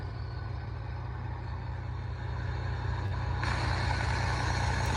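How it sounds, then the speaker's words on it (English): A truck's Jake brake rumbles in a steady, throbbing engine-brake drone, loud and continuous, with a broad hiss swelling in partway through. "Big Jake brake action"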